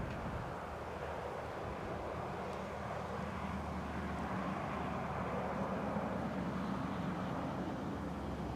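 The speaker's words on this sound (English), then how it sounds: "let's see if we can get a piece of that inbound Ryanair" Ryanair airliner arriving at Newcastle International Airport, heard as a steady, broad, distant jet roar with wind buffeting the microphone throughout. No one speaks.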